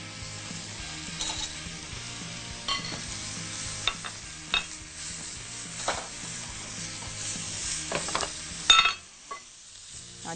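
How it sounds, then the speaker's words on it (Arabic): Onion and garlic fry for pasta in a pan, giving a steady close sizzle under repeated scraping stirs and light clinks before the sound drops away near the end. "وفي نفس الوقت هعمل البصل والثوم بتاع المكرونه"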